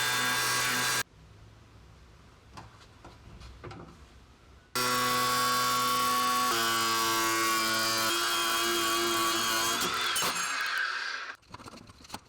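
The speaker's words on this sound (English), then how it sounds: "Be aware of your spark direction when using an angle grinder." An angle grinder grinds steel while making a handmade marking knife, a loud steady whine with strong harmonic tones that runs for several seconds, stops and restarts, shifting in pitch as it bites into the metal.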